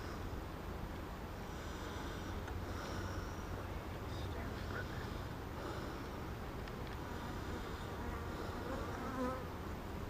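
Honey bees buzz continuously around an open hive in an apiary, a dense, steady drone close by, with faint breaths or snorts now and then.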